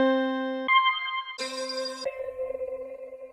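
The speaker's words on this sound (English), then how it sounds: "find a cool ping sound, maybe like a" Synthesized piano-like ping tones from the Native Instruments Hypha plugin, changing pitch in a few sustained steps with a bright, ringing, bell-like shimmer and a soft tail.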